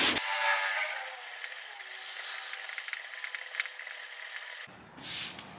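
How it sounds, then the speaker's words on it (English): Continuous abrasive rubbing of sandpaper on car body metal during home dent repair, a steady close scraping that runs alone for several seconds, then stops, with a short quieter rub at the end. "Let me keep sanding and see what happens."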